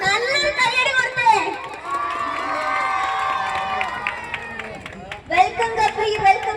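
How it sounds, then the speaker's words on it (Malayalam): Crowd at the inauguration of a Sky Phone shop in Palakkad, with cheering, chatter and scattered clapping, a busy continuous din that swells into louder bursts of applause near the end. "നല്ലൊരു കയ്യടി കൊടുത്തേ."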